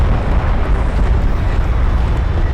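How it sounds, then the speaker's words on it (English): Artillery barrage explosions in the strategy game Homeworld: Deserts landing on railguns, a loud continuous rumbling roar of blasts merging into one heavy, dense wall of sound. "Barrage lands on the railguns, and it's good."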